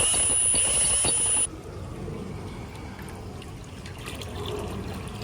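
Water runs into a five-gallon bucket of sugar syrup for beehives, starting with a loud hissing rush from a tap that abruptly drops to a softer, steady trickle and splash.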